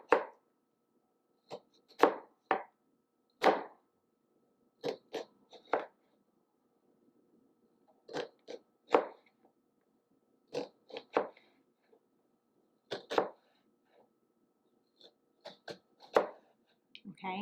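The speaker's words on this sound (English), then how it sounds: "make nice even slices, keeping a little bit of this root intact" A knife cuts a vegetable into even slices on a board, in crisp, separate chopping taps that come in small irregular clusters with short pauses, close and clear in an otherwise quiet room.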